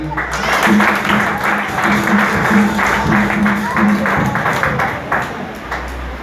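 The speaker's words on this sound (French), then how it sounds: "Applaudis." Church congregation applauding, sustained dense clapping that fills the space for several seconds with a voice over it, fading out near the end.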